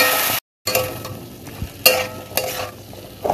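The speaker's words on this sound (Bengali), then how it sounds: "তো ভালো করে নেড়ে চেড়ে নিই" Spices get stirred around in a cooking pan with a steady sizzle and a few sharp scrapes and clinks of the utensil, with one brief dropout near the start.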